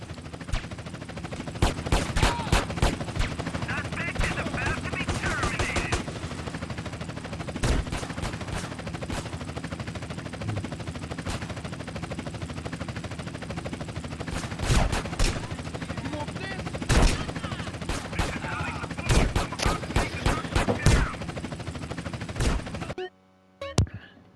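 Rapid gunfire in GTA San Andreas, with bursts of sharp shots and machine-gun rattles scattered over a steady background, loud clusters recurring throughout before a brief drop to silence near the end.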